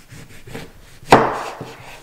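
A knife cutting food on a wooden board at home, a few soft taps followed by one sharp, close chop that rings briefly.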